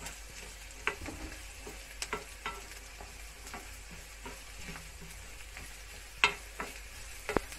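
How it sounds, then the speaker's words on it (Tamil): Onions frying and being stirred in hot oil for a dry fish poriyal, with a steady soft sizzle and scattered spoon scrapes and clicks, close and alone with no talking. "நல்லா வந்து வெங்காயம் வந்து வதங்கிக்கட்டும்,"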